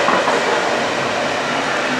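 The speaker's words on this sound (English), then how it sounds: "Here comes another train." A freight train passes near a van shop on a main route into downtown Columbus, a loud, steady rolling rumble of railcars filling the whole stretch.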